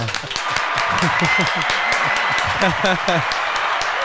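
Audience applause at a farewell gathering for an ambassador, with steady dense clapping from a crowd filling the whole stretch, fairly loud and continuous, with a few voices mixed in.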